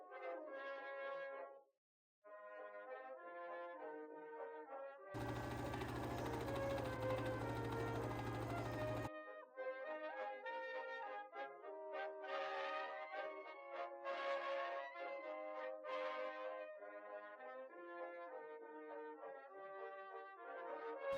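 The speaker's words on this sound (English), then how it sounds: "First, I have to sew the pocket pieces into the side seams of the skirt" A sewing machine stitches skirt pocket pieces into the side seams for a McCall's M8195 dress, running in one steady, loud whirring burst of a few seconds, with tonal music before and after it.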